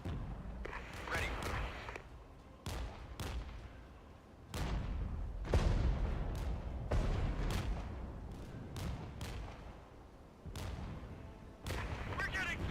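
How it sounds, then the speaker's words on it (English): Artillery fire in the strategy game Regiments, sounding as a run of sharp booms and thuds at irregular intervals, some loud and close, others more distant, with voices talking over part of it. "There's some sort of artillery over there."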